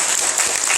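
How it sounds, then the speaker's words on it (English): At a string music concert, an audience gives a round of applause, a dense, bright burst of clapping that is close and fairly loud for a brief moment. "a round of applause for Dr. Mezalam."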